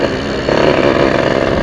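A Yamaha V80 two-stroke motorcycle engine runs unevenly, its steady drone jumping louder partway through, as if sputtering from low fuel, heard close with no talk.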